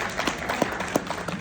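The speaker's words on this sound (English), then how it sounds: "Another round of applause to Victoria." Brief applause from an audience at an International Organization for Migration event, honoring the speaker Victoria: a scattering of claps with a few sharper hits standing out, moderately loud and close, lasting only a moment.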